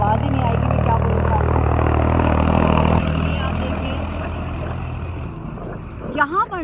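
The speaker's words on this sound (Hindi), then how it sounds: "उधर से ट्रैक्टर आ रहा है तो आवाज़ ही नहीं आएगी मैं क्या बोलूँ।" A tractor approaches and passes on a country road, its low diesel engine chugging steadily and loud before easing off, with a voice speaking briefly near the end.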